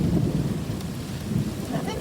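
Thunder rumbles through a lightning storm with high winds, a loud, continuous low roll mixed with rain-like hiss and no distinct break.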